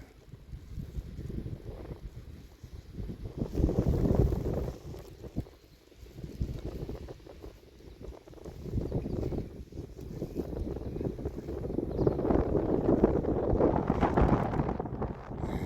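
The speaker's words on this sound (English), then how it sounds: "Yes, it's windy." Gusty wind buffets the microphone in waves out on a lake, swelling and easing over a low rumble, with no talking.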